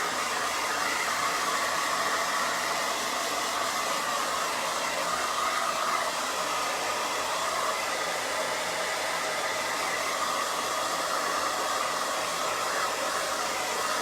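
A hair dryer blows steadily and loudly at close range while drying crackle paint, a constant unbroken whoosh of airflow with no pauses from start to finish.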